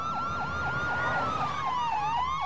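Police siren in the video game Call of Duty Modern Warfare 2, a loud, steady wailing yelp cycling rapidly over and over with a second siren layered beneath, continuous over a rumbling vehicle background with no talking.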